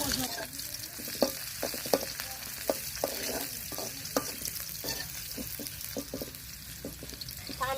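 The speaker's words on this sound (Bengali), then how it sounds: "তেল গরম হয়ে গেছে রসুন কুচি আর পেঁয়াজ কুচি দিয়ে দিলাম" Chopped garlic and onion sizzle in hot oil with a steady close hiss, broken by regular scraping clicks from a stirring spoon.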